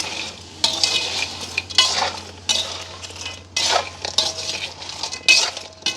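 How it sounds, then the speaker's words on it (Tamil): Crab curry with salt stirred in a pot in a village kitchen: repeated scraping and clinking of a metal spoon against the pot in uneven bursts, close and fairly loud over a low hum. "அப்படியே கலந்து விடுவோம்."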